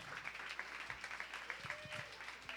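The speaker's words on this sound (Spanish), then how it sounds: "Hermano, te voy a dar un aplauso a Samuel." Church congregation applause, fairly faint and scattered, with irregular claps rising and falling over a soft room background; a faint tonal whistle or voice passes briefly near the end.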